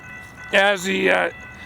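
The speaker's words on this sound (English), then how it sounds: "as the train gets closer I'm going to move away so you can see more of the train" Horn blast from a train on the Florida East Coast Railway, one loud, harmonically rich sustained note lasting under a second, sounding alone and close.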